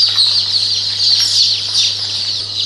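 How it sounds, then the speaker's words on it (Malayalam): Spotted hens on a large Kerala egg-laying poultry farm, a dense flock clucking and calling continuously at moderate distance, with a steady low electrical hum beneath and no talk. "ഇതെല്ലാം പുള്ളിക്കോഴികളാണ്."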